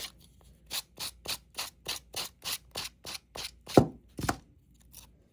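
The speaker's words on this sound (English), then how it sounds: "I'm going to just go on ahead and start sanding away at the edge." Rhythmic back-and-forth sanding strokes scrape the edge of a scrap-wood shelf sitter with decoupaged paper, about a dozen evenly spaced rasps close up, ending with a couple of heavier rubs.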